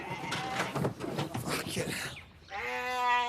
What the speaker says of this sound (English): So to keep him company and crucially give me enough meat for my restaurant, May's brought me 2 new lambs.